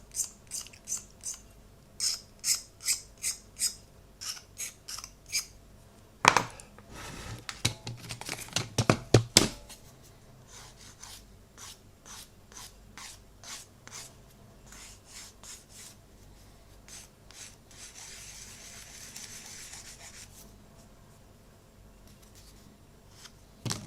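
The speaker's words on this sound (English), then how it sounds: "I shall just scrape off and clear this top bit of flash up here" Flash is scraped off a plastic XB-70 Valkyrie model part in quiet, close strokes: a run of short rhythmic scrapes, then a denser cluster of rougher rasps, and finally a few faint scratches.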